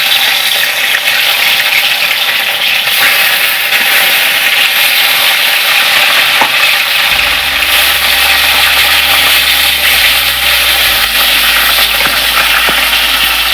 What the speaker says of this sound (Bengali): তেলটা হয়ে গেছে, তেলের মধ্যে মাছগুলো দিয়ে দেবো।